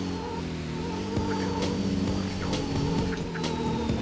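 Porsche 550A race car engine in Need for Speed: Porsche 2000, a continuous buzzing engine drone with rising and shifting pitch as it accelerates, steady and close, alone without speech.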